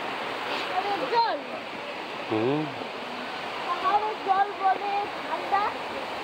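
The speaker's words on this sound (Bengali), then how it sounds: "পাহাড়ের জল" Cold mountain stream water rushing in a steady broadband roar, close and continuous, with voices talking over it at times.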